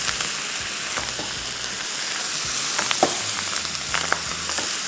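Kimchi fried rice being folded in a frying pan, a continuous close sizzle with scattered spatula scrapes and taps, with a low hum beneath.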